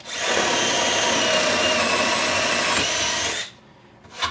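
A Festool CXS drill/driver set to speed two bores through material with a loud, steady whirring grind for about three seconds, then cuts off, followed by a brief faint clatter.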